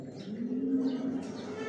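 Pigeons in a rooftop loft, a low continuous cooing with overlapping birds, close and steady, with faint chirps and wing sounds in the background.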